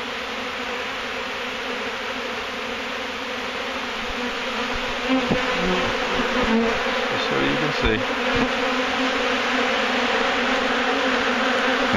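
Honey bees swarm densely around a hive inside rotted wood, forming a steady, close buzzing drone that thickens partway through, with a voice speaking briefly over it.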